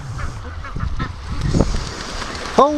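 Juvenile ducks call on a lake, a mix of soft low quacks and honks through the middle, capped by a sharp, loud quack near the end, with water and background noise throughout.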